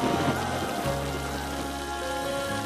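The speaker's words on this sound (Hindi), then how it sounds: "बारिश अच्छी लगती है क्या?" Steady rain falls in a constant hiss, with a low hum running underneath.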